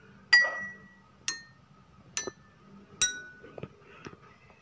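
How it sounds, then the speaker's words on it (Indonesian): Glasses holding different amounts of water are struck one at a time, giving four bright, ringing clinks at a steady pace, each fading quickly, with a couple of softer taps near the end. "Setelah ini, mari kita pukul setiap gelas. Nanti akan dihasilkan suara yang berbeda-beda."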